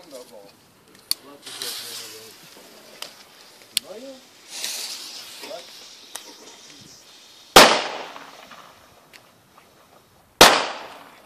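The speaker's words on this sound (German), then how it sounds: "als nächstes die Pyra C-Böller" Two Pyra C-Böller firecrackers go off outdoors, each a loud sharp bang with a fading tail, amid voices talking, rustling and smaller clicks between the blasts.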